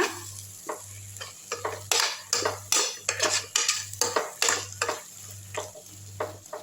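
A spoon stirs potatoes into a mutton bone curry in a pot, repeated scraping strokes and clanks against the metal at a steady rhythm over a low continuous hum, close and fairly loud.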